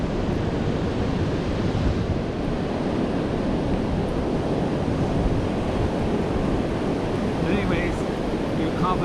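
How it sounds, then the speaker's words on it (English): Ocean waves wash steadily onto the shore in a continuous, loud roar of surf, with wind buffeting the microphone throughout and no clear breaks between swells. "You hear the sound of the water and the waves."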